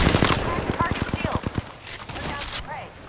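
Rapid automatic gunfire rattles in a fast burst of sharp shots in Apex Legends, followed by scattered impacts and voices talking over the combat.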